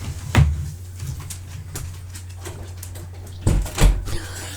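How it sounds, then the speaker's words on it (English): A dog noses a door open, giving a couple of soft knocks and creaks against steady low hum, followed by two louder thuds near the end. "The dog literally just opened the door with her nose."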